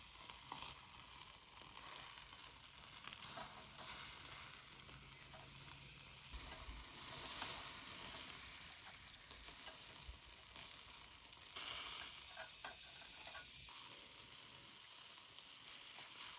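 Sausages cook on a hot Captain Stag mini portable folding BBQ grill until their skins split, giving a steady, close sizzle that runs unbroken throughout with a few brief swells in intensity.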